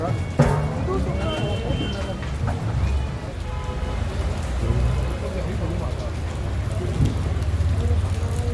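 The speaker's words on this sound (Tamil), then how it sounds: "இங்கே நாங்கள் வந்த நேரம் சரியான ரெயின்" Rain pours steadily on Manali's Mall Road, a dense hiss of drops on the street with a few louder knocks, while people talk nearby.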